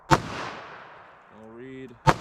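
Two sharp, loud gunshots from a .22 WMR revolver with a 3-inch barrel ring out about two seconds apart, with a brief electronic beep from a chronograph between them.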